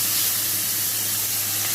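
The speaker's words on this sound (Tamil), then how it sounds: "கடாயில் எண்ணெய் வச்சுட்டு கடுகு, உளுத்தம்பருப்பு போட்டுட்டு பெருங்காயம் போட்டுட்டு ப்ளஸ் இப்போ நம்ம கட் பண்ணி வச்சுருக்க வெங்காயம், தக்காளி அதையும் சேர்த்துடலாம்" Mustard seeds, urad dal, asafoetida, onion and tomato fry in hot oil in a kadai for a bottle gourd kootu, giving a steady, close, even sizzle that hisses on without a break and without voices.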